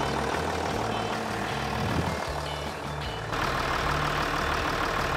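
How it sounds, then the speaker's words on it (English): A vehicle engine runs with a steady low rumble close to the microphone, and a faint repeating beep is heard throughout. "So we had the engine noise at the beginning"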